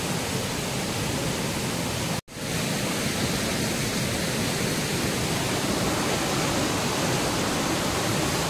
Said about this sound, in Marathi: याला वजर वॉटरफॉल बोलतात वजारमध्ये एक फेमसचा वॉटरफॉल आहे